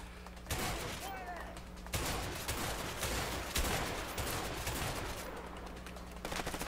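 Gunfire in the video game A Way Out, during a Mexican shootout, crackles in repeated bursts and scattered shots over a low background hum, with a voice speaking faintly underneath.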